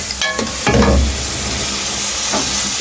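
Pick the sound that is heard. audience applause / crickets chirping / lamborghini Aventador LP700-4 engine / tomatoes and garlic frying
tomatoes and garlic frying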